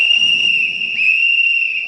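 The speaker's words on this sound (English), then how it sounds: "Yes, your job is to whistle, but you won't get paid for it" A man whistles on stage, a steady sustained high tone held for about two seconds with a slight pitch dip midway, loud and clear over faint low room noise.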